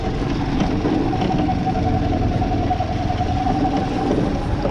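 An old buggy engine, left outside in the rain, runs steadily while being driven, a loud, continuous rough idle-like drone with a slightly knocking texture, close by and without talk.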